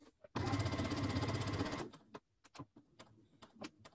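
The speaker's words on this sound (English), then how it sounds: "So now I'm gathering the lining for the bag the same way I did for the main fabric" Sewing machine gathering bag lining fabric, one close rapid whirring burst of stitching lasting over a second, followed by scattered clicks and handling taps.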